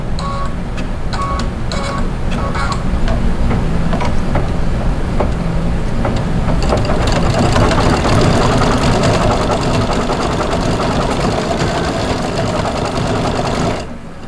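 An embroidery machine stitches cross-stitch 'Boo' letters in black thread with a steady, loud, rapid mechanical chatter that runs without a break before easing off at the very end.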